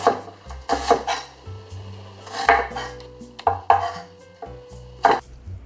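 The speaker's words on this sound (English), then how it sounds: "Cut the onion into thin slices using a rocking motion with your knife" A knife slices an onion thinly on a cutting board with a rocking motion, producing a rhythmic series of crisp cuts and dull thuds against the board, close and clear with short pauses.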